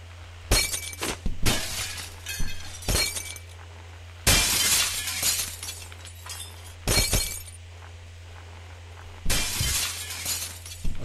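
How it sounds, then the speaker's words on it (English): Glass shatters again and again in the physics game Happy Wheels, giving about five loud, crashing smashes with scattered tinkling tails, separated by quieter gaps over a low steady hum. "Glass break."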